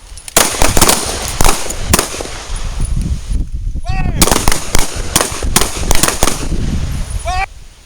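Pistol gunfire at an outdoor combat pistol workshop, a rapid series of sharp, loud shots from several shooters with short gaps, plus a couple of faint high chirps in between.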